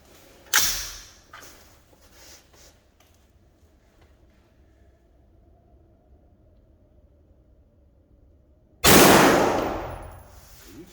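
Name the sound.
Springfield Armory Saint rifle gunshots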